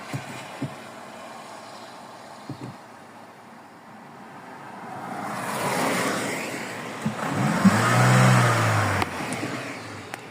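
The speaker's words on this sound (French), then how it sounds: "Il y a des voitures." Cars pass on a nearby road, one swelling closer and fading away, then another approaching with a low engine rumble and tyre hiss, over faint outdoor background noise.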